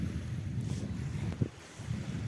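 Cold, sharp wind buffets the microphone on a seashore, a steady low roar with faint surf beneath and no voices.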